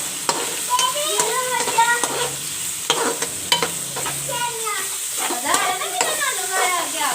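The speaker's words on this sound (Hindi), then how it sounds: "इस ऑयल में फ्राई" Boneless chicken fries in hot oil in a pan, a steady sizzle broken by repeated scraping stirs and clinks of a utensil, close-up, with no talking.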